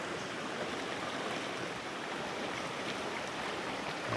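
Shallow creek water rushing over a riffle on a February tenkara fishing trip, a steady, even wash of flowing water filling the whole stretch with no voices.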